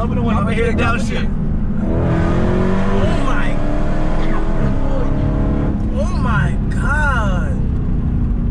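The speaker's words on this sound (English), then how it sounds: "Let me hear a downshift." A Hellcat sports car engine revs up and down through several downshifts, with loud rising and falling pitch sweeps and people talking and exclaiming over it.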